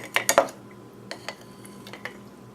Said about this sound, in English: we just gotta scoop the butter out into a bowl